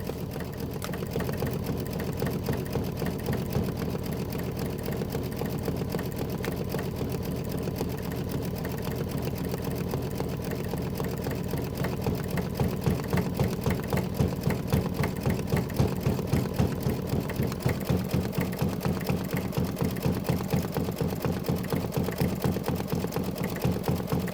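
A Kimberbell-project embroidery machine stitches a quilt tile, a steady mechanical whir with fast needle pulses that grow more distinct and rhythmic partway through, running alone and close.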